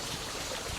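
Steady, soft rushing and trickling of river water around someone wading down the still part of a trout pool late in the season, an even hiss with no talk.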